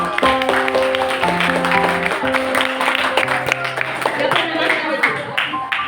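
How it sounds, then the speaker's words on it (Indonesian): Audience applause at a seminar on preventing online child sexual exploitation, dense clapping filling the whole stretch with sustained tonal music or hum lines running underneath. "ya, tepuk tangan dulu."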